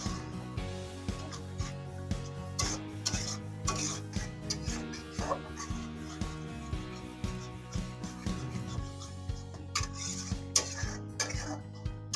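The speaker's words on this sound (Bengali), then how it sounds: "মশলাটা কষানো হয়ে গেছে এবার দিয়ে দিচ্ছি এতে টক দই" Sour yogurt goes into cooked masala in a pan while making sol fish dhoka, with steady stirring and scraping, light sizzling and metal tapping against the pan, close and continuous.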